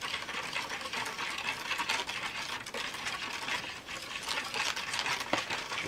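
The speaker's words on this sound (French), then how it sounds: "On mélange." Water is stirred into a Dodotto Tsubupyon bead craft mix, giving a steady, close scraping and swishing that continues without pause, with a few small clicks and no talking.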